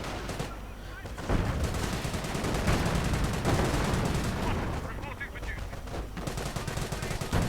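Dense machine gun and rifle fire in a WWII strategy video game, a loud continuous battle din of rapid shots and bursts with no pause.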